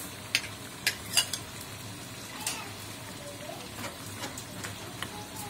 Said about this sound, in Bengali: এখন দিয়ে দিব চিংড়ি মাছ।